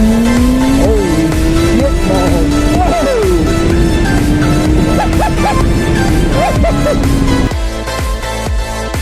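A 2017 Honda CBR1000RR sportbike accelerating hard as the front wheel lifts, its engine a loud, steady high-revving howl that climbs in pitch under music before cutting off abruptly near the end.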